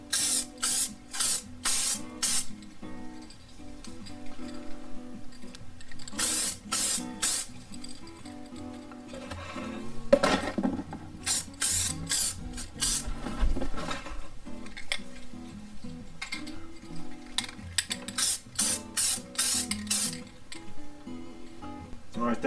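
Bursts of hissing spray paint land on a wheel as a heavier second coat goes on, coming in repeated short and longer passes close by, with soft background music underneath.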